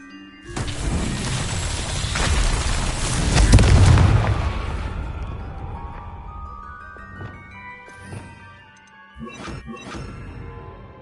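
Loud fiery blasts from Confringo spells in Hogwarts Legacy, a big booming burst building to a peak, then several sharper pops and bangs spaced apart as the echoes fade.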